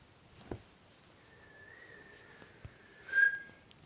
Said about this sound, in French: je vais siffler, ça fait mal aux oreilles